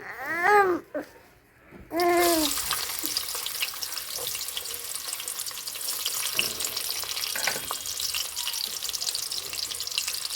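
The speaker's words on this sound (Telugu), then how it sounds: "ఇంకా నూనె అయితే కాగింది ఇంకా ఉల్లిగడ్డలు కరివేపాకు అల్లము వెళ్ళిపోయి దంచేసుకుని కూడా వేస్తామండి" Onions, curry leaves and crushed ginger hit hot oil in a pan, starting with a brief quieter moment with a few chirpy tones, then a loud, steady, close crackling sizzle that carries on to the end.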